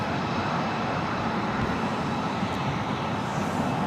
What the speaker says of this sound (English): This is Delta Airlines